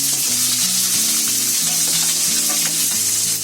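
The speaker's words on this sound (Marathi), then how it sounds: "आता त्याच्यामध्ये आपण आहे ना आलं, लसूण आणि मिरची टाकूया. आणि मिरची ते पहिले आपण भाजून घेऊया." Ginger, garlic and green chillies roasting in a pan for Puneri misal, a loud, continuous close sizzle, with low scraping and stirring clatter running underneath throughout.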